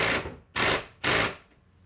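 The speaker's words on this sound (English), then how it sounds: "It's just an impact drill." An impact drill drives into wood in an RV being repaired for leaks and water damage, with three loud, harsh, rattling bursts in even succession, close up and without talk.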